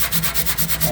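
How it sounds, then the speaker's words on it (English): Rhythmic back-and-forth sanding strokes on painted and rusted metal inside a microwave oven, close and steady, about eight quick rasping passes in a second. "I'm still gonna sand the paint so that way the new paint can grip."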